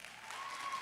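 Audience applause at a school board of education meeting, a steady wash of many hands clapping throughout, with no cheering evident.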